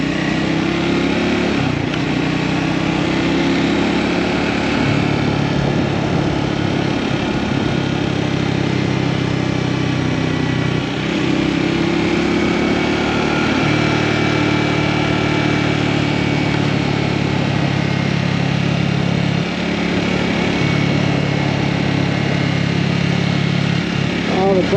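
A Scrambler 400X motorcycle engine drones steadily while riding through Utah mountain canyon curves, with wind noise and speed changes throughout; the rider talks over the continuous engine sound.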